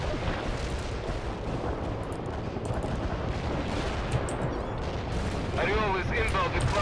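An artillery barrage in the World in Conflict video game hits its target as a dense, continuous rumble of explosions and crackling gunfire. Near the end, chirping radio-like tones are heard.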